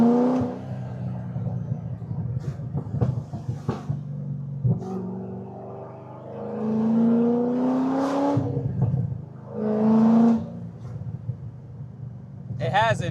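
A cammed Corvette's engine rumbles loud and close, then climbs in rising sweeps as it accelerates through a power pull, with two strong surges partway through.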